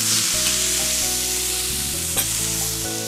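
Vegan tofu sausages sizzle steadily in a frying pan, a continuous close crackle with a low hum beneath and a brief clink near the end; no one speaks.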